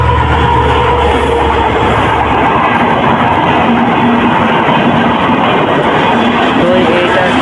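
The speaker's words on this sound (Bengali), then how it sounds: "এই যে একটা ট্রেন আছে, এটা ইন্টারসিটি ট্রেন।" An intercity train at the old Jagati railway station in Bangladesh, heard as a steady loud rumble of rolling rail wagons with clattering wheels that continues throughout, with faint talk mixed in.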